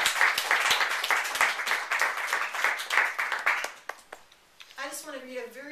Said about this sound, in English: give a round of applause to both Tom and Gavin